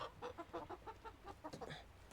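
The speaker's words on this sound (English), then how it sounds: "So these are the chickens." Chickens clucking in a dim allotment coop on a snowy winter day, a quick run of soft rhythmic clucks and murmurs close by, quiet and continuous.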